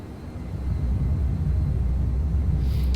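A Eurofighter Typhoon jet in Microsoft Flight Simulator spools up for takeoff, giving a loud, steady low rumble that builds slightly and holds.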